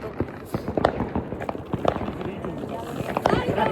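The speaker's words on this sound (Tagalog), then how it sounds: "Oh, daming paputok." Firecrackers at a crowded New Year celebration burst in a dense, irregular string of sharp pops and bangs, some near and some farther off, mixed with a busy murmur of voices.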